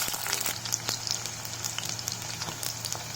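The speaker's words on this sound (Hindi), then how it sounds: "अब हम इसमें जो गोल कटे हुए प्याज थे उसको डालेंगे" Round-sliced onions frying in hot oil for a restaurant-style mushroom curry, a steady dense sizzle with crackling pops and a low hum underneath, continuous and close.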